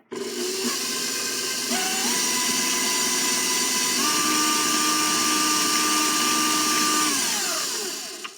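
Electric mixer whirring steadily through cookie bar batter, a loud, continuous motor hum that shifts pitch as the speed changes, close and alone for the whole stretch.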